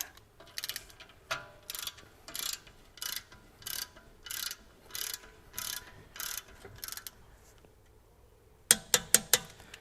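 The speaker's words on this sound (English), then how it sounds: "tighten that down again, same as the one, 35 Newton meters. Again, a torque wrench." A torque wrench tightens a Torx retaining bolt to 35 Nm on the rear brake carrier of a Range Rover L405. Close, crisp ratcheting bursts repeat at a regular pace, followed by a pause and then three quick sharp clicks.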